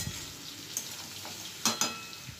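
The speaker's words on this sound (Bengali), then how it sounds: "এভাবে একটু নেড়ে চেড়ে" Ash gourd curry with fried peanuts gets stirred in a pan, a soft continuous sizzle broken by a few sharp scrapes and clinks of the spatula, close and fairly quiet with no talking.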